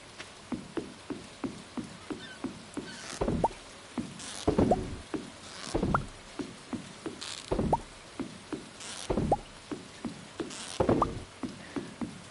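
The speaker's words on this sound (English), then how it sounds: "how many people love the sound of the rain in this game?" Stardew Valley farm-game rain falls as a steady, regular pattering of soft drops and plops, with louder splashy bursts every couple of seconds, close and without voices.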